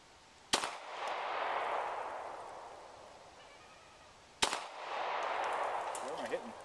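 Two loud, sharp shotgun blasts ring out several seconds apart during a bird hunt, each followed by a long fading rumble across open ground.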